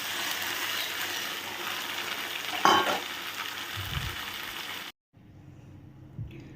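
Boiled chana dal going into a frying pan with paneer, a sizzling, stirring clatter with a brief scrape of the spoon, then an abrupt cut to a much quieter pan with faint bubbling.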